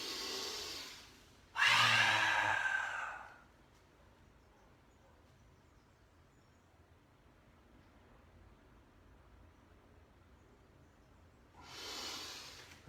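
Breath is pushed out audibly during a yoga breathing exercise, two strong airy exhales, one loud near the start and a softer one at the end, separated by quiet room tone.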